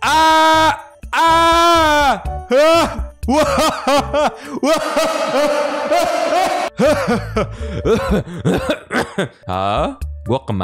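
A person imitates a goat's bleat several times in wavering, strained cries while playing a voice-controlled Roblox obby, with coughing and throat-clearing sounds mixed in, loud and close.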